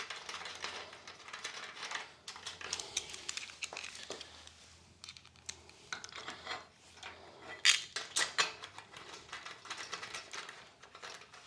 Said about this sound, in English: So we'll just get it aligned, screw it in, just partially, not all the way.